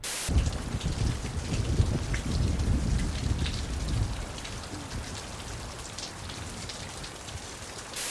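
Steady rain pours down in a mountain climbing scene from a film, a dense continuous hiss with faint rumbling underneath, heard alone without voices.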